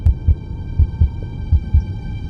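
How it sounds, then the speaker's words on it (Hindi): A pounding heartbeat effect in a Hindi horror audiobook, with low double thumps repeating steadily about every three-quarters of a second over a faint electronic hum, loud and close, with no voices. "उसका दिल जोरों से धड़कने लगता है।"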